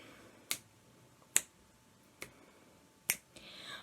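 Four sharp, evenly spaced finger snaps ring out alone in a quiet room, keeping time for a sung sea shanty about General Taylor.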